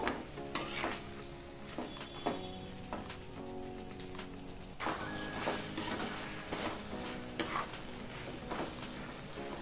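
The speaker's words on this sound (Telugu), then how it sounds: "మనము కలుపుతూ టమాటాలని మగ్గబెట్టాలి, అంతేకాని మూత పెట్టకూడదు" Tomato pieces cook uncovered in hot oil in a pan for a tomato and red chilli pickle, a steady sizzle broken by repeated ringing scrapes and taps of a stirring spoon, close and clear with no talk.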